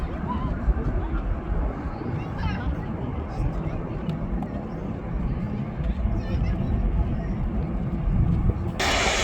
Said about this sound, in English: Picture perfect takeoff.